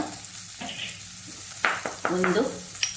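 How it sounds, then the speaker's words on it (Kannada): A gooseberry mixture with Byadagi chili powder sizzles in a pan over low heat, a soft steady frying crackle broken by scraping stirring clatters close by, with no talk. "ಇದು ಸ್ವಲ್ಪ ಫ್ರೈ ಆಗಲಿ"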